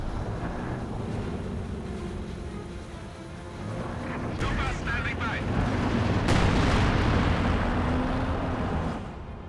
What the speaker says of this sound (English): Bombard hitting the rear echelons.